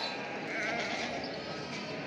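Goats and kids bleat amid a dense, noisy crowd din at the Çorum livestock market in Turkey, the calls overlapping continuously at moderate loudness.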